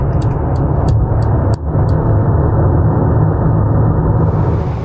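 A Mercedes-Benz GLA gasoline engine pulls while driving, a loud, steady engine drone filling the whole stretch with a brief dip partway through.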